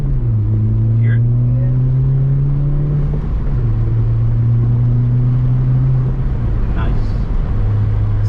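A 2020 Honda Civic Si with a PRL Cobra cold air intake and MAP race exhaust pulls away from a red light, its loud engine drone climbing in pitch through two gear changes, close and continuous.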